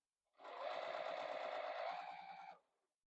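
A sewing machine stitching fabric scraps for a small hand warmer, one continuous run of rapid mechanical whirring and needle pulses lasting about two seconds, close and clear against near silence.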